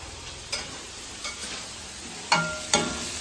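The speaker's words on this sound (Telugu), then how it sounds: "ఇది నూనెలో ఏగిపోయినాయి" Prawns frying in oil give a steady soft hiss, broken by a few sharp scraping stirs and clacks of a utensil against the pan, with two louder strokes near the end.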